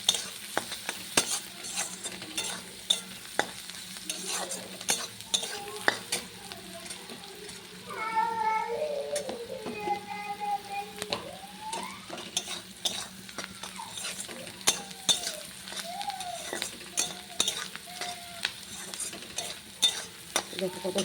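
Food frying in a pan with salt and turmeric is stirred, a quiet sizzle with intermittent scraping and clinks of a spatula against the pan, fairly soft and continuous, with a faint cat meow in the background.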